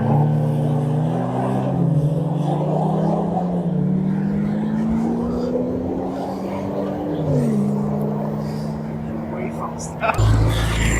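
A Porsche supercar and a Skoda estate car race, heard as a steady engine drone with rising and falling pitch shifts as gears change, ending in a sharp transition.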